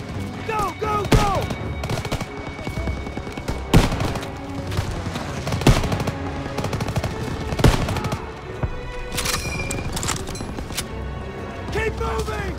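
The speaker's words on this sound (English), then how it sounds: "MGs in the barn! Shit! Everyone down! We gotta hit those MGs!" Machine gun fire from MG nests in a barn during a Call of Duty WWII battle: loud, repeated bursts and sharp gunshot cracks across the scene, mixed with shouting voices.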